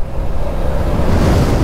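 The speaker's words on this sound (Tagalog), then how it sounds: "Lakas ng alon talaga mga tol oh." Strong ocean surf pounds the shore on a rough-sea day along a coastal road in Pio Duran, Albay, a loud continuous roar of breaking waves mixed with wind buffeting the microphone, with no voices.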